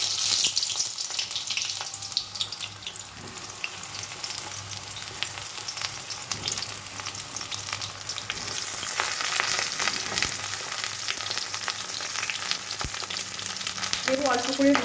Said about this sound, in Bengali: প্রথমে বেগুনগুলো ভেজে নেব।